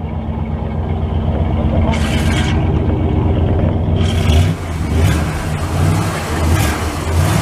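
A 1970 Chrysler 300 convertible's engine idles and rumbles steadily, revving briefly, while people talk over it nearby.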